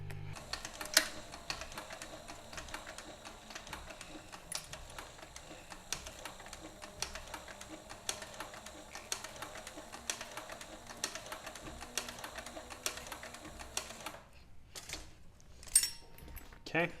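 An industrial sewing machine stitching a keeper onto a leather back cinch, a quiet, fast, even run of ticking needle strokes that stops near the end, with faint talk mixed in.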